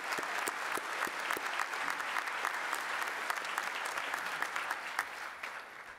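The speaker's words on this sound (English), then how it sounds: "Will you join me in a round of applause for our faculty and staff?" Sustained applause from a commencement audience honoring faculty and staff, dense steady clapping with sharp individual claps standing out, filling the hall at even loudness and tapering slightly at the end.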